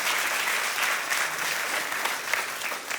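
A church congregation applauds during a sermon, a steady, dense wash of many hands clapping together that holds evenly for about three seconds.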